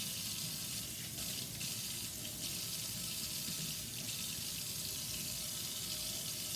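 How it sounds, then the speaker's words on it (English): Tap water runs steadily from a kitchen sink faucet over a roasted habanero pepper being rinsed to wash out its seeds, a continuous close hiss with no talking. "I'm gonna bring it to the sink, and I'm gonna rinse it off just to get the seeds out"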